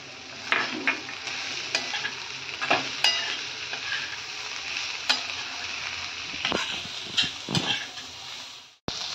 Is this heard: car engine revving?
no